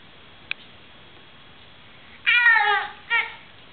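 A small child imitates a cat, giving a drawn-out meow followed by a shorter second one, near and clear after a quiet pause with a single faint click.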